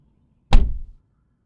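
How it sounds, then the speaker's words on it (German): Aircraft door of a TL-3000 Sirius ultralight in Microsoft Flight Simulator, a single solid thunk that rings briefly and fades within half a second, close and alone in near silence. "hat auch das Öffnen der Türen Auswirkungen auf den Sound"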